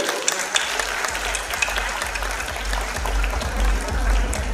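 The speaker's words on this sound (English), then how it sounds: "Round of applause, guys." Audience at the FICCI Frames 2024 event applauding as a guest is welcomed on stage, a dense, steady clapping from a crowd with a low rumble underneath.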